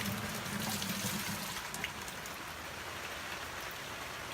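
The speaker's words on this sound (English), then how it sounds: "I'm just gonna pour it in the bucket." Fermented heirloom tomato seeds and pulp poured from a container into a bucket, a steady splashing, trickling wet pour that eases off after about two seconds into a quieter dribble, no one talking.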